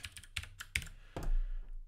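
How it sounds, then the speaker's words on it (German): Quick, light keystrokes on a computer keyboard typed with cold fingers in an office: a handful of crisp, close clicks in an uneven rhythm, then a low rumble of room noise, with no talking. "klamme Finger, kann ich so gut tippen"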